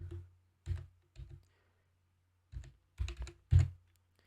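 Short bursts of key clicks on a computer keyboard as text is typed, close and fairly quiet, in small clusters with pauses between.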